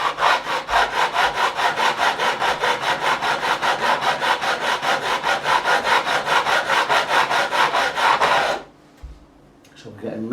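Metal file rasping steadily across the fret ends of an Ibanez JS1000 guitar neck being beveled during a re-fret, in a fast, even run of back-and-forth strokes that stops abruptly near the end.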